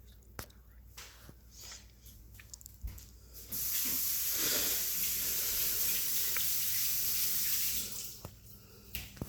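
A kitchen tap gushes for about five seconds as hands are wetted while making sushi, a close, steady spray of water between quieter handling sounds and light clatter.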